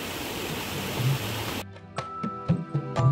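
A waterfall called Thado Khola beside the walking trail to Ghandruk in Kaski, Nepal, gives a steady, loud, close rushing roar for the first half; then the roar cuts off abruptly, leaving quieter knocks and thumps.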